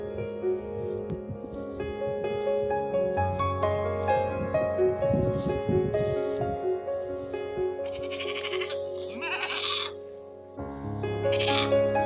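Goats bleating in a grassy pasture beside a dug-up building site, loud and close over a steady tonal hum, calls overlapping and recurring throughout.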